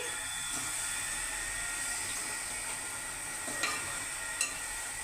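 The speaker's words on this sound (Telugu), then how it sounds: "ఆయిల్ కూడా చుట్టూ వస్తుంది అంటే ఇంకొంచెం బాయిల్ అవ్వాలి" Mutton masala curry simmers in a pot, oil separating around the thickening gravy, giving a steady close hiss and sizzle with a couple of brief clicks near the end, no talking.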